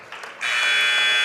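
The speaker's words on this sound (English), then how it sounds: "there's the final buzzer." Final buzzer sounding at the end of a high school basketball tournament game, a loud sustained electronic drone that cuts in abruptly after a brief murmur and holds steady to the end.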